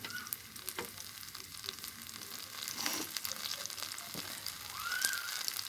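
Whole onions frying in a pan for a methi and bottle gourd bhaji, with a steady close sizzle and occasional stirring scrapes, no talk.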